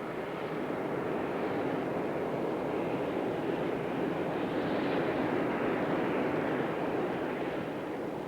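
Steady, loud broadband engine roar of an Airbus Super Guppy outsize cargo aircraft, a four-engine turboprop freighter that carries Airbus fuselage sections, holding constant for the whole stretch with no voices.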